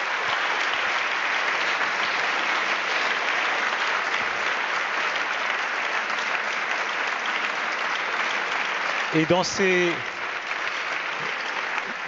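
Sustained applause from a large audience at a formal conference at the Palais des Nations fills the whole stretch, steady and dense, with a brief spoken word rising above it near the end.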